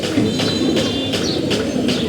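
Pigeons kept as pets cooing close by in soft, repeated throaty pulses over a dense, steady murmur of the flock.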